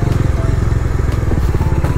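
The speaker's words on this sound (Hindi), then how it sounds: "मेरा बाइक का हालत सही नहीं है भाई, यहाँ पर थोड़ा खड़े होके ही चलाना पड़ेगा जैसे सौम्य भाई जा रहे हैं" A motorcycle with a rear shock absorber problem is ridden off-road along a dyke near Burla, Sambalpur, its engine chugging in a steady loud pulse throughout, with rattling and clatter from the rough ground.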